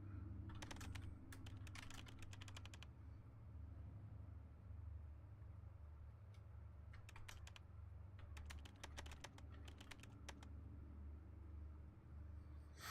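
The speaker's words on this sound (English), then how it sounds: "I like the little clicky noise. That's what I miss on modern keyboards, is the clicking." Clicky computer keyboard typing in two clear bursts of rapid keystrokes, near and distinct, over a steady low hum with a pause in between.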